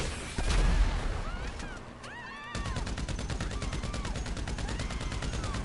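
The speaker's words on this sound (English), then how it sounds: "So I'm just going to shoot randomly." Gunfire from GTA 5, a short burst early, then a steady rapid automatic rattle that keeps going without a break, loud and close.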